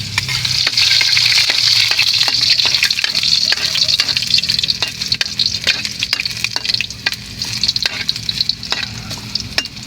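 Garlic and onion hit hot oil in a pan for a mega sardines and misua dish, giving a loud, continuous hiss of frying with scattered crackles and the scrape of stirring.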